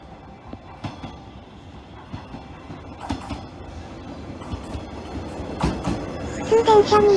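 A local train approaches a station, its rumble and creaking rising steadily, with clacks and a brief high brake squeal at the close.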